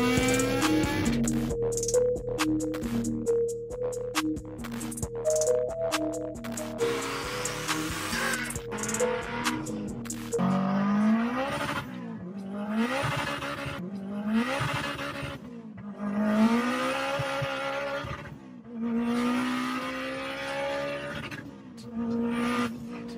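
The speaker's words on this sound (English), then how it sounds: "Been driving on this lonely road, but I'll get back to the video when I get there." A car drives along a lonely road, its engine droning and shifting pitch through repeated rises as it accelerates and changes gear, with tire and road noise continuous and fairly close.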